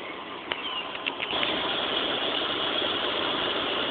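Air conditioning compressor on a 1973 Mercedes 450SL kicking in as the engine runs, a few small clicks and then a steady close mechanical whir and hum that holds at an even level.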